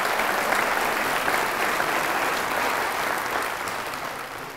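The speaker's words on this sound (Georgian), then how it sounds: "აპლოდისმენტები კიდევ ერთხელ" A studio audience at a school quiz game show applauds steadily, a dense, even wash of clapping that holds for several seconds before fading slightly.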